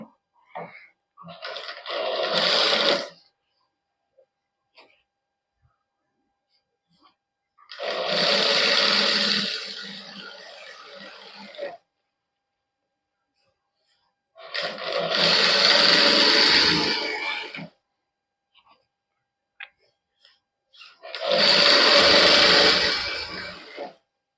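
A sewing machine fitted with a single presser foot stitches piping onto a matching suit, running in four separate bursts of several seconds each with quiet pauses between, loud and close.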